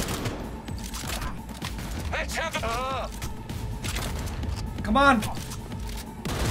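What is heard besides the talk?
gunfire in the video game Cyberpunk 2077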